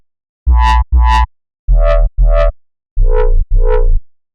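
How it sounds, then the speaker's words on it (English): Synth bass notes from a Serum patch with oscillator 2 pitched up an octave, giving a screechy dubstep or bassline house tone; six loud, short distorted stabs in three pairs, each pair a step lower than the last. "if we pitch up the octave level of oscillator 2, we can get a screechy dubstep or bassline house type of sound."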